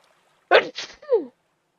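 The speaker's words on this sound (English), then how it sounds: "I'm gonna sneeze" A single sharp human sneeze, close and fairly loud, with a quick breathy burst followed by a short trailing vocal tail, then silence.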